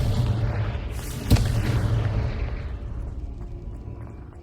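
A Confringo fire spell explodes in Hogwarts Legacy, a short booming blast with a sharp crack that rolls into a long, fading rumble over a dense game soundscape, with no talk.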